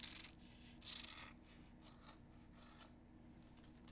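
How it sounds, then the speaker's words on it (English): Scissors trimming the loose ends of tape on a hockey stick blade, a few faint close snips and rasping cuts against a quiet room hum. "I grab a scissors and I just trim the ends."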